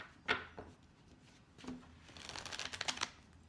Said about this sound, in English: So let's get a card to see how this situation is going to pan out